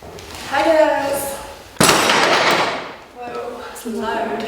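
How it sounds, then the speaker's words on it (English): Heavy old door in a castle guard room opening with a loud, sharp creak and thud in the middle, between stretches of people talking nearby. "That door's really loud."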